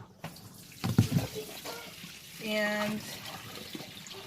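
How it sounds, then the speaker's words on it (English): Water gushes and splashes as a portable compact mini twin tub washing machine drains into a bin, a running-water stream under brief talk, with a short tonal whine in the middle. "it just pours all the water into the bin"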